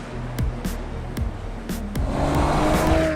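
Bentley Continental GT V8S pushed hard through a corner, its V8 rising and falling in quick bursts with sharp pops between gear changes, then settling into a louder, sustained roar as it pulls out of the bend.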